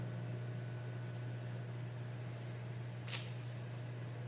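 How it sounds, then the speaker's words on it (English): A microwave oven runs steadily while warming a plate, giving a constant low hum with an even whirring drone and a brief click partway through, with no talking. "I am warming up my plate in the microwave"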